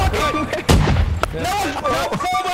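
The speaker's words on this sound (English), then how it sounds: "Out the way of the cannon!" Cannon artillery fire in a Holdfast: Nation At War line battle event, with loud booming blasts over continuous shouting voices and battlefield din.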